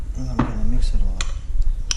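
Green mango, chili and shrimp paste are mixed together in a bowl, with a few clinks and scrapes of a utensil while a voice talks over them.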